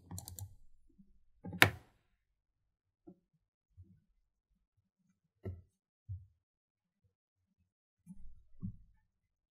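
A computer mouse clicks a few sharp, isolated times, including a double-click, to open MATLAB in a quiet room, with long silences between the clicks.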